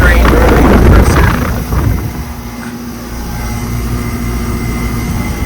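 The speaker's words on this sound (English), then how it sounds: "they just replaced the compressor on this unit right here. Just replaced the compressor. It's a brand new compressor. It's a train rotary compressor." An outdoor air conditioner fitted with a brand-new Trane rotary compressor runs with a steady low hum. Gusty wind buffeting is louder at the start, then the machine settles into a constant drone.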